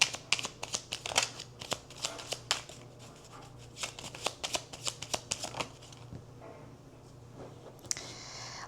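Tarot cards being shuffled, a rapid series of crisp riffling flicks close up, the rhythm slowing and fading toward the end over a faint steady hum.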